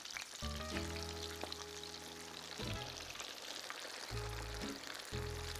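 Chicken pieces fry in a pot of hot oil with a constant loud sizzle and crackle. Low humming tones start and stop over the frying.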